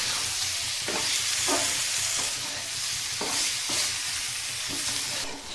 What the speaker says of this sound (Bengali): ভালো করে আলুটা আমি ভেজে নিয়েছি মশলার সঙ্গে